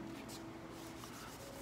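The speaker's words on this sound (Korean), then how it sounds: "수세미로 신나게" Continuous close rubbing and rasping as a scouring pad scrubs back and forth over a wooden pool cue, faint and steady throughout.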